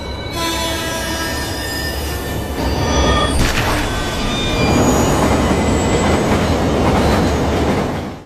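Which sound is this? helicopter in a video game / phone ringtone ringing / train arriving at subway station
train arriving at subway station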